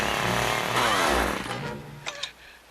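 A chainsaw engine revs loudly in the movie Friday the 13th: A New Beginning, its pitch rising and falling, then bogs down into a lower idle with a couple of sharp bursts near the end.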